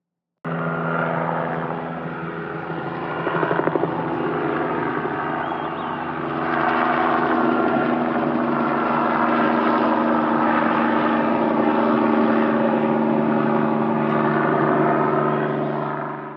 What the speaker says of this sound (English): The helicopter flew in circles